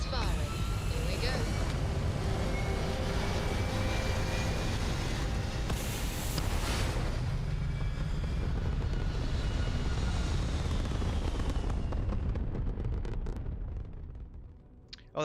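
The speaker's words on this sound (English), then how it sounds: "Engines firing." Spaceship engines fire in the game Starfield as a loud, continuous, low rumbling roar with a rising whoosh partway through, fading out toward the end, while a voice talks over it.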